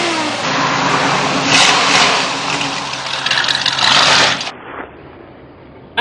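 V8 engine of a Jeep CJ5 revving hard as the gas pedal is floored, a loud sustained roar that climbs and holds, then drops off abruptly to a quieter idle.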